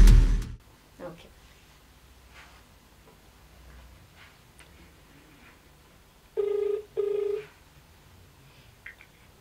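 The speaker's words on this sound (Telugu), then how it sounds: "మ్యామ్ మీకు ఒక నంబర్ ఇస్తాను, ఆ నంబర్ కాల్ చేయండి, మీకు తెలుస్తుంది." A telephone sounds a few short tones near the start, then two steady ringback tones a moment apart, close and clear over near silence.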